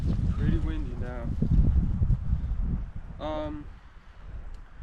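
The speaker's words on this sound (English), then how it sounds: "It's pretty windy now." Wind blowing outdoors beside a wood pile being chopped with an axe, a rough, low rumbling rush of gusts buffeting the microphone, with a person speaking over it.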